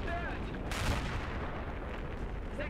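Loud, dense blasts and gunfire-like bursts fill the clip continuously in the video game Battlefield 3, with a sharp explosion near the start and constant rumbling booms throughout.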